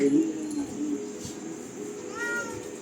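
A cat meows repeatedly at close range, with a couple of short calls early on and a rising cry near the end, over a low indoor background where a person speaks faintly.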